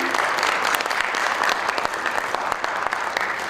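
Audience at a National Honor Society induction ceremony in a high school applauding the students, a steady, close wash of clapping from many hands throughout.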